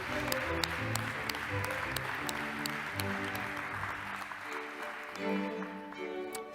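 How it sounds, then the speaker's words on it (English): Audience applause for award winners at the European Heritage Awards Ceremony 2021, a steady crowd clapping that fills the hall over tonal music, with no talking. "Please, a big applause for these extraordinary people"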